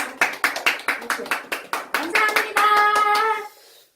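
A few older women clap their hands together in a quick, steady series of sharp claps indoors, then someone starts to talk, with voices carrying over the last of the clapping.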